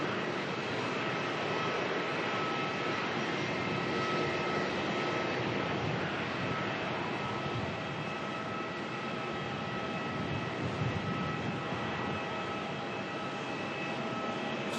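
Jet aircraft Retro Roo arriving from Auckland at Melbourne airport, a steady broadband engine roar held at constant loudness throughout, continuous and fairly distant with no voices.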